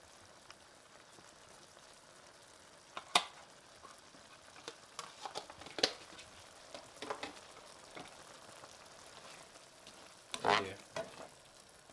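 A tomato, sausage, white bean and kale stew sizzles quietly in a pot, with a soft steady crackle broken by several sharper stirring clatters and scrapes, and a brief voice in the clip.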